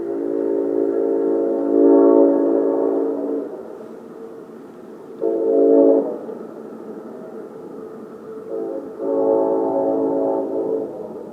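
An Amtrak Siemens ACS-64 electric locomotive sounds its multi-note horn in several long blasts separated by brief pauses, loud and sustained, with no voices.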